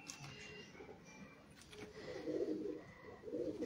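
Pigeons coo in low, soft rolling phrases that swell in the second half, with faint background noise and no talk.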